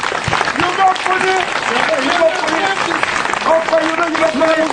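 A church congregation breaks into loud, sustained applause and clapping to acclaim the Lord, with singing and voices carrying over the clapping throughout.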